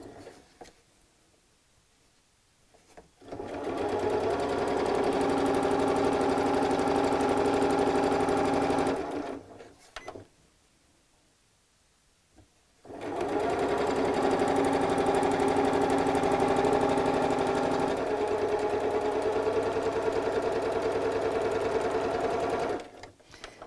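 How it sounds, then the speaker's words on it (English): A sewing machine stitches a bolster cushion just inside an earlier stitch line in two long, steady runs of rapid needle chatter and motor hum, close and even, with a quiet pause between them and near-silence before and after. "So I'm going to sew just inside the stitch line that I've already made."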